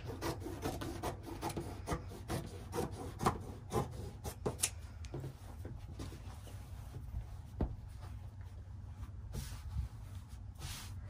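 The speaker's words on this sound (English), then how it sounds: "I can just go ahead and trim my fabric right along the edge." Fabric trimmed along the edge of a quilt top during pin basting, heard as a steady close rasping and rubbing with repeated sharp cutting strokes, and no voices.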